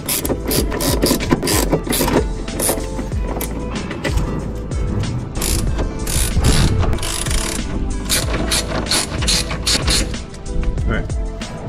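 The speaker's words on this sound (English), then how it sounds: "Next, we're gonna be removing the two bolts holding the fuel filter on." A ratchet works loose the bolts holding the fuel filter on a fuel-injected Honda street bike, giving rapid metallic clicking bursts in uneven runs, close up amid clattering tool and part noises.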